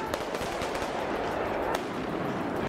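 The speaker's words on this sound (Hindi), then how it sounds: "पुलिस को उन्हें काबू करने के लिए आंसू गैस के गोले और रबर की गोलियां दागनी पड़ी" Rapid, continuous bursts of sharp gunfire-like pops and cracks from police firing rubber bullets and tear gas shells at protesters, dense and loud throughout, with no voices.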